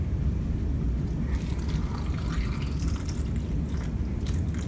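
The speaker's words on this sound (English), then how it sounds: "when we wash our tomato, usually we use tap water" Running tap water splashes and drips steadily over a tomato being rinsed, with faint squishy handling sounds throughout.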